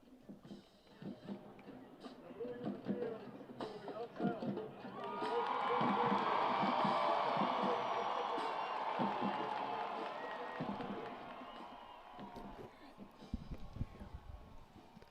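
Crowd noise in a football stadium at a state championship game, a broad roar that swells around mid-clip and holds for several seconds before easing, heard at a distance beneath a voice talking throughout.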